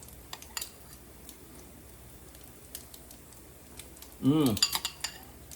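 A spoon clinks and scrapes in a bowl of grits, with faint scattered ticks and then a short, louder cluster of clinks near the end. A quiet room hush sits beneath.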